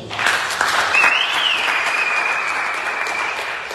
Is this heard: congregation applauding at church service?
yes